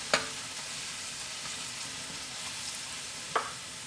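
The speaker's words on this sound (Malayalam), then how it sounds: "ഇതിലേക്ക് നമുക്ക് കുരുമുളക് പൊടി ചേർക്കാം. നന്നായിട്ടൊന്ന് മിക്സ് ചെയ്യാം." Onions frying in oil sizzle steadily as pepper powder is stirred in, a continuous close hiss with two sharp spoon taps against the pan at the start and near the end, no voices.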